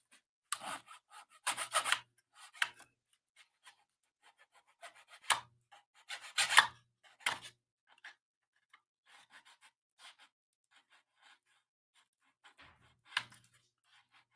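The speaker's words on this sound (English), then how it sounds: "let's see about clearing or sanding the putty down" Putty on a 1:24 scale wooden San Francisco cable car model is sanded by hand, giving short scratchy rubbing strokes in uneven bursts separated by quiet gaps, close and faint.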